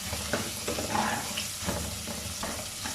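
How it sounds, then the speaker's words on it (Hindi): Steady sizzling of garlic and ginger frying in a hot pan, with occasional stirring scrapes, close and continuous. "तकरीबन 1 मिनट तक ये लहसुन अदरक को भूनेंगे"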